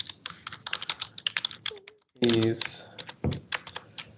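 Fingers type code on a computer keyboard in rapid, uneven clicks. The typing stops for a moment while someone speaks briefly, then a few more keystrokes follow, all soft and close.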